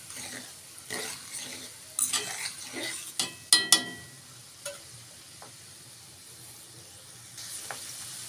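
Fenugreek seeds and black cumin are stirred in a pot as they boil, with a spoon clinking and scraping against the metal in uneven strokes over a faint bubbling hiss.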